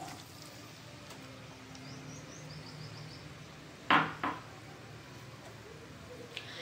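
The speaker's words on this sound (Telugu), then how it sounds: "ఇప్పుడు ఇవి ఆయిల్లో వేసుకోవాలండి" Thinly sliced large onions go into heated oil in a pan for fried onions for country chicken biryani. A short, sharp clatter and spit rise about midway, then a second smaller one, over a faint steady hiss.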